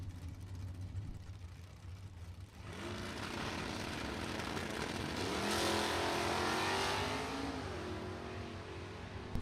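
A 1978 Camaro and a 1965 Mustang launch side by side in a bracket drag race, engines roaring loudly and building steadily as they pull away down the strip.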